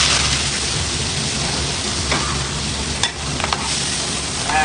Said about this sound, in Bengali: এই যে চিংড়ি মাছ করা হালকা একটু ভাজে নেব।